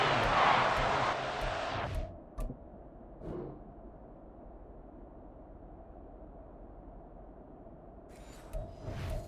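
Stadium crowd in the Madden NFL 24 football video game roars loudly ahead of a big third down, then cuts off abruptly after about two seconds, leaving near silence with faint scattered sounds.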